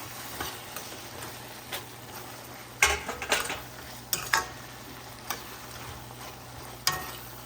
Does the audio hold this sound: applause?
no